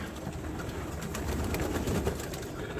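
Soft, continuous cooing of several hungry breeding pigeons, a steady low burbling murmur with light fluttering and rustling, fairly close.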